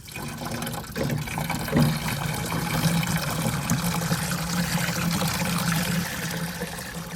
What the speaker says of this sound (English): gonna go ahead and fill that up